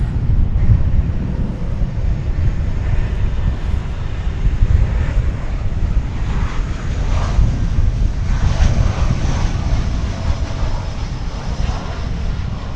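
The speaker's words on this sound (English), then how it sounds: "We're going to next see a flight coming in from Monterey, flight 941 American Airlines, and Airbus A319." An American Airlines Airbus A319 arrives at Dallas Fort Worth Airport from Monterey, a loud, steady jet engine roar with heavy low rumble and some wind buffeting the microphone throughout.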